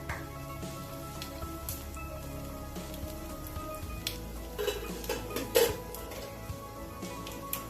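Mustard seeds and cumin frying in hot oil for a spinach curry, a light sizzle with scattered pops, utensil clinks and a sharper clatter near the end, close by without talking.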